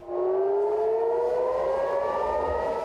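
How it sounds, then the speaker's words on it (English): Air raid sirens wail across Israel in one loud, continuous tone that slowly rises in pitch throughout, with no voices over it. "In Israel, sirens wail as missiles stream across the sky."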